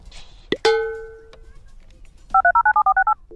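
A mobile phone call is dialed: a sharp tap and a brief ringing tone come first, then a quick run of about nine evenly spaced keypad beeps, loud and close.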